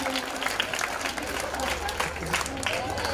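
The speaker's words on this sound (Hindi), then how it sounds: "बार जोरदार तालियों से।" A school crowd at an annual cultural function gives loud, dense applause that fills the space steadily, with voices and crowd noise mixed in.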